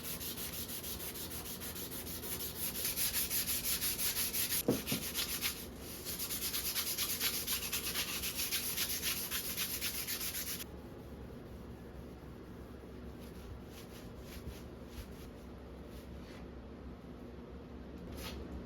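Abrasive rubbing on the back side of a vintage handsaw blade during a restoration, a steady close scrubbing hiss with strokes that change and quieten partway through, and no one speaking.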